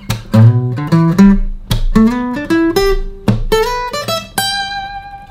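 Simple electric guitar lick built from pentatonic scale patterns: a quick run of clear picked notes in a loose rhythmic phrase, loud and close, ending on a sustained ringing note, with no talking.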